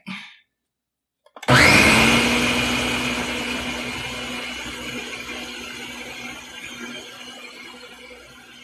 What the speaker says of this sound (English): You don't want to over blend it.